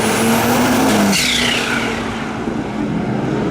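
Race cars launch hard off the line at spectator drags: a loud, close rising engine scream with tire squeal, then a sharp gear change and a continuing roar as the cars pull away.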